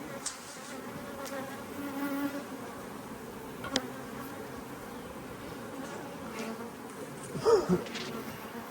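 Honey bees buzz around a beehive frame in an outdoor apiary. A steady, soft droning hum carries throughout, with a few brief louder buzzes as bees pass near, and no voices.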